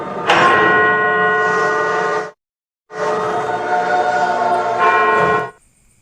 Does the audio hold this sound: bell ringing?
yes